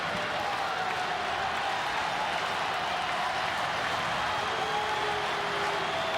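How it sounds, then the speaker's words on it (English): Steady crowd roar from a baseball stadium, Cubs at Pirates, in the bottom of the ninth of a two-run game, a broad continuous din of cheering at even level throughout with no clear talk over it. "Now all of a sudden the crowd's into it."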